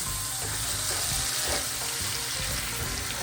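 Butter melts in a cast iron skillet with a loud, steady sizzle and bubbling, while a utensil scrapes and stirs it close by.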